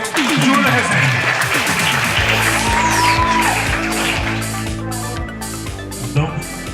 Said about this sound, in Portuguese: Palmas para o professor Júlio Rezende